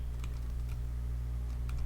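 Keys tapped on a computer keyboard during Photoshop clone stamp work, a few light, quick clicks spaced apart for the Alt, Shift and greater-than shortcuts, close and fairly quiet over a steady low hum.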